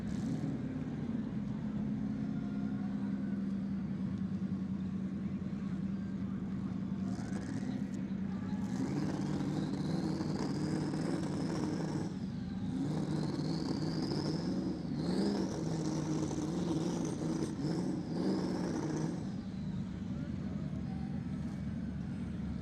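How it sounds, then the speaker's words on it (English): Two Mustangs do burnouts at a TX2K25 drag racing event at Texas Motorplex, with loud sustained engine roar and rising revs that whine up and down over a constant crowd and track din. An announcer talks over it. "Couple of healthy burnouts done by both drivers."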